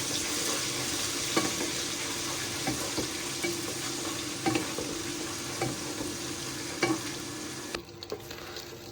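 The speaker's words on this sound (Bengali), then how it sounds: "তারপরে দিয়ে দিচ্ছি পেঁয়াজ কুচি পরিমাণ মতন। পেঁয়াজটা একটু ভাজা ভাজা করে নেব।" Chopped onions fry in a pan for Bangladeshi polao, a steady close sizzle with occasional spoon scrapes and clinks running throughout.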